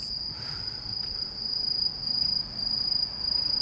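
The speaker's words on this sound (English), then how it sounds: "Oh, crickets are so loud here." Crickets chirp loudly and steadily on a night walk in Japan, one shrill continuous trill running through the whole stretch over faint background rumble, with a passing train nearby.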